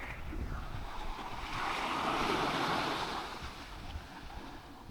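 Ocean waves break on a dangerous Mornington Peninsula beach, a steady rushing surf roar that swells in the middle and eases back, with wind buffeting the microphone.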